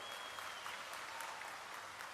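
Dense, steady audience applause at a village government camp event, continuous and even throughout, with a faint murmur of voices underneath.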